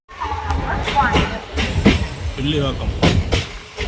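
A MEMU passenger train from Chennai to Tirupati rumbles and rattles steadily beneath a person talking close by, its clatter rising and falling throughout.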